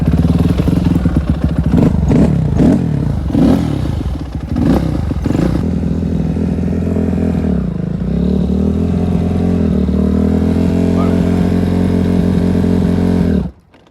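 A Kawasaki KX250F dirt bike engine with a carburetor that bogs at the top end warms up close by, blipped through several sharp revs at first and then settling into a loud, steady idle until it cuts off.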